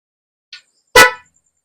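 Two motorcycle horn beeps on a TMX 125 style motorcycle: a faint short chirp, then a louder, fuller honk lasting about a quarter second, with nothing else around them.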